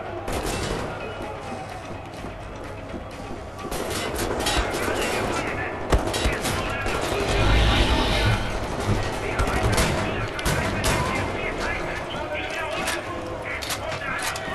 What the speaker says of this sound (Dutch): Het is zo heerlijk om met een shotgun los te gaan op die gasten.